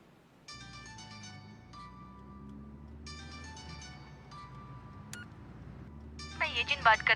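In a 2020 Hindi film, a telephone is dialed: a run of electronic tones and beeps plays over a low background drone, ending in a burst of quick chirping tones.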